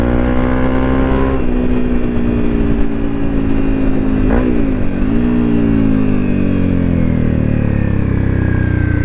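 Honda CRF 250 Rally motorcycle on knobbly tracker tyres, its engine droning loud and close while riding, pitch rising and falling with throttle changes and a brief dip mid-way, with wind noise and no voices.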